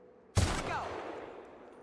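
A single sharp gunshot from a video game firefight in The Outer Worlds, loud and close, with its echo tailing off over the next second and a half.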